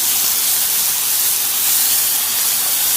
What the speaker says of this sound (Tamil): இது ஒரு 2 மினிட்ஸ்க்கு நம்ம இந்த மாதிரி இந்த ஆனியனை ஃப்ரை பண்ணிகிட்டே இருக்கணும்